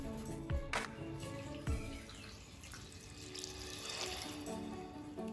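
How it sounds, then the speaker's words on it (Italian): Water poured into a bowl of freshly washed mint leaves: a soft, steady splashing trickle, quiet and close, with a few brief louder splashes near the start and no speech. "Aggiungiamo l'acqua"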